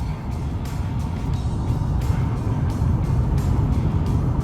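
A Ford F-150 Lightning electric pickup accelerates on the road, heard from inside as a constant low rumble of tyre and road noise that grows slightly louder, with no engine note.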